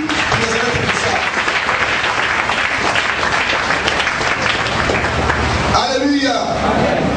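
A church congregation applauding and cheering at a French-language sermon, dense continuous clapping that fills the space throughout, with voices mixed in and a short sung or shouted phrase near the end.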